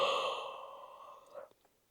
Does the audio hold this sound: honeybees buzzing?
no